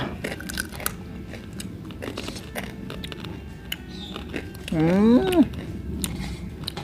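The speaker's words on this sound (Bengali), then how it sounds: "ট্যাংরা খাচ্ছি বন্ধুরা জোরে জোরে চিবাও শুনি" Crunchy fried tangra fish is chewed close to the mic, with repeated crisp bites and crackling crunches, and a brief voice breaks in near the end.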